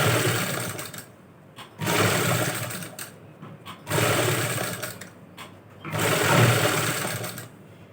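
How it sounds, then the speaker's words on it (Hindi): Sewing machine stitching an edge seam along the inside of an embroidered fabric neckline with inner lining, running in three bursts of steady mechanical whirring separated by brief pauses. "अब इस पर भी हमें एक किनारी पर सिलाई लगा लेनी है,"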